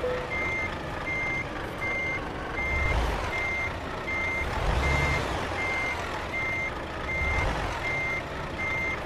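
A Volvo tandem truck in Euro Truck Simulator 2 reverses, its backup alarm beeping in a steady even rhythm over a low engine rumble that swells a few times, with no talking.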